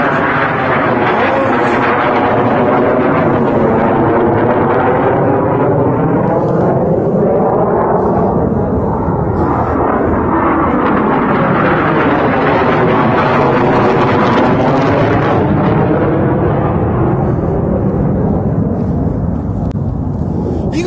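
An airplane passes low overhead near an air force airfield, a loud, long roar that swells, shifts in pitch as it goes by and slowly fades, with brief voices underneath.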